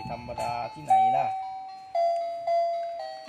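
Toy excavator truck plays an electronic melody of steady, sustained beeping tones in a few repeated notes, loud and close, with a brief chirpy jingle at the start.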